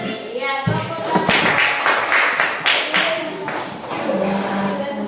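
Fourth-grade children in an Indonesian classroom clap their hands in a few bursts over a noisy room, with voices talking and some shuffling underneath.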